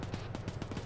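Artillery rounds fired in a combat video game, heard as a rapid run of muffled, booming shots in close succession that rumble low under a dense, loud wash of noise, with no talk.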